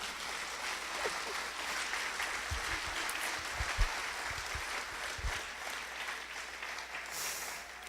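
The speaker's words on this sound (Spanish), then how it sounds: "¿Le puede dar un aplauso al Señor aunque le duela?" Congregation applause in a church service, a fairly faint, steady patter of clapping with a few low thumps, heard from some distance.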